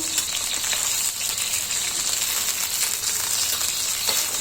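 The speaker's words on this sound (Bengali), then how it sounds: "এখন আমি সব চিকেনগুলো লাল করে ভেজে নেব এখন আমি চিকেনগুলো উল্টে দেবো" Chicken pieces frying in oil for chilli chicken give a steady, dense sizzle with crackling spits throughout, close and continuous with no voices.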